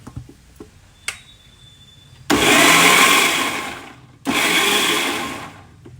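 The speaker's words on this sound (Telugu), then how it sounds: "మిక్సీ జార్లో గోంగూర వేసుకొచ్చా మిక్సీ పడదాం ఇప్పుడు" A few small clicks and taps, then a mixer grinder grinding gongura leaves whirs loudly in two bursts, a longer run and a shorter one, close by.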